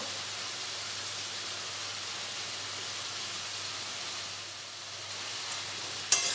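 Pumpkin stalks, potato and eggplant fry in a pan with salt and turmeric powder, giving a steady, even sizzling hiss that runs throughout and ends with a brief knock.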